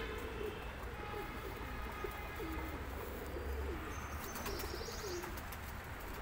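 Red-headed Indian pigeons cooing steadily at a bird dealer's in Lahore, the low rolling coos repeating over a constant background hum and a few faint chirps, with no one speaking.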